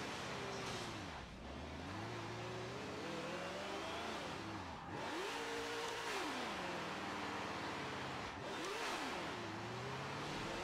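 A car engine revs hard in a burnout in the Forza Motorsport 7 racing game, rising and falling in repeated sweeping surges over a constant loud drone, with no talking.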